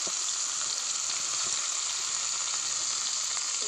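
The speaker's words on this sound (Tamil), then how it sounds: "போட்டுட்டு வெங்காயம் போட்டுக்கலாம்" Onions frying in hot oil with bay leaf, cinnamon, cloves and cardamom, a steady, loud, close hiss and sizzle that holds evenly throughout with no talking.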